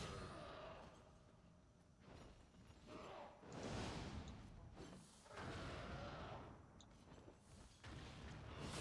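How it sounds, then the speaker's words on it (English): Repeated booming explosions in Marvel Rivals with whooshing blasts, loud and dense, rolling one after another over a continuous background din. "Yay, explosions!"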